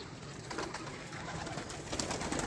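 Breeder pigeons on a rooftop in Gokhowal coo softly and continuously, a low steady burble set against a constant hiss of outdoor background noise, with no voices.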